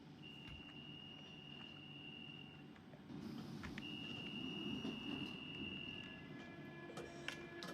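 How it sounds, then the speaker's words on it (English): A London Underground Central Line train in the Open BVE simulator starts up, with a steady electric whine and hum that grows fuller partway through, plus a sustained high tone and a few soft clicks. "I like the sound of the train starting up."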